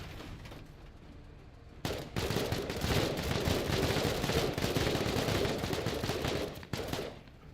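Sustained burst of autocannon fire in a video game, a dense rapid rattle of shots lasting several seconds after a quieter lead-in, loud and continuous with a brief break near the end.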